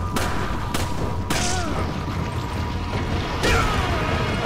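Grenade explosion in Resident Evil 5: several sharp booming blasts with crackling debris, the loudest bursts near the start and another a few seconds later, over a steady background of in-game noise.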